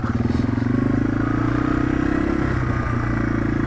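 A Yamaha TW200 motorcycle rides off-road over sand, its single-cylinder engine thrumming loud and close with a steady pulsing beat and some clatter, the tone shifting slightly as the throttle changes.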